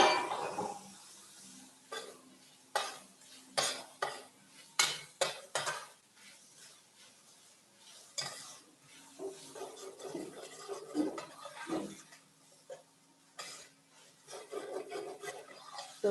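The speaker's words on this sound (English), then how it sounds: "I'm frying the onions and the ginger without oil at all." Dry-frying onions, ginger and garlic with no oil: steady rasping scrapes and clinks of a spoon stirring in a pan, close and soft, coming in irregular strokes with brief gaps between them.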